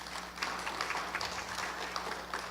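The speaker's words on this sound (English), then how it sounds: "Let's give Steve a round of applause." An audience at an abuse and neglect training session gives a faint, steady round of applause, the scattered claps distant and muted against a low hum.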